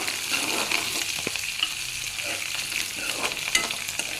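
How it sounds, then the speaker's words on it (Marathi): Curry leaves fry in hot oil with onions in a pan, producing a continuous bright sizzle with occasional stirring scrapes and small pops. "यामध्ये मी आता कढीपत्ता घालत आहे"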